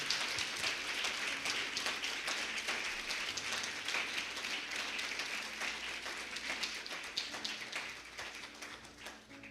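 A church congregation applauding, steady crowd clapping throughout, heard at moderate distance in a reverberant hall and tapering slightly at the close.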